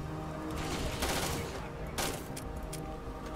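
Gunfire in the space game Starfield, dense rapid shots with two heavier blasts standing out over a constant layer of game music and effects.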